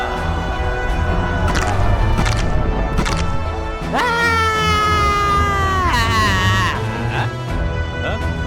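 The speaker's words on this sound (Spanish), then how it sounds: "Todos empezaron a gritar y a hacer mucho ruido. Y de repente, la tierra empezó a sacudirse cada vez más fuerte." Animated Bible story of the walls of Jericho: loud crowd shouting and screaming over rumbling, crashing noise, with sliding wails rising above the din throughout.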